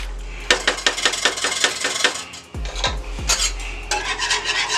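Heavy cream stirred in a pan with a metal utensil, a close run of quick rhythmic clinks and scrapes against the pan over a low hum, then a pause and a few more scraping strokes, no talk.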